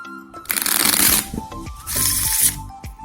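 Riffle shuffling of a deck of playing cards, two quick bursts of fluttering card snaps close by, with soft taps between them.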